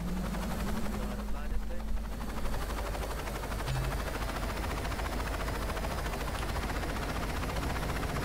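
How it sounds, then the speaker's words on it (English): Steady whirring helicopter engine drone from the video game Saints Row 2, constant and fairly loud throughout, with voices talking over it. "That's a very nice helicopter."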